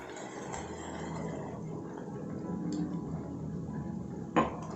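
A utensil stirs yogurt into prawn curry in a pot, making a steady low churning and sloshing with faint scrapes against the pot, close and moderate, and one sharper knock near the end, with no talking.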